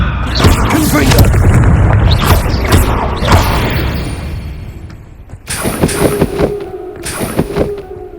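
A Confringo spell explosion in Hogwarts Legacy lands as a loud booming blast followed by crackling, rumbling debris that fades out, then sharp metallic clinks and effects ring out afterward.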